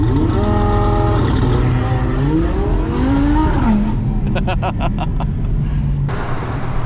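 A 1200-horsepower twin-turbo Audi R8 race car engine revs hard and climbs at launch, harmonics sweeping upward, then drops to a loud rumbling idle with crackling pops, close to the microphone.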